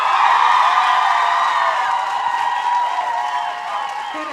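Audience applause and cheering fill a school stage show, a dense steady wash of many clapping hands with whoops, loud and continuous, fading slightly toward the end.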